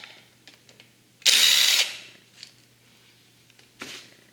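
A 10mm bolt being loosened on a YZ450F motorcycle engine bottom end: one loud, short mechanical whir of about half a second, close by, then faint scattered clicks and light clatter.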